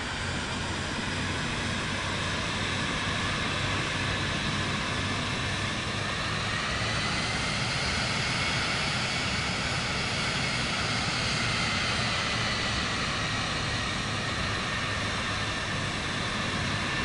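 Aircraft engine at taxi power in Microsoft Flight Simulator 2024 on PS5: a steady, loud, broadband drone with a faint high whine that holds unbroken for the whole stretch, with no talking.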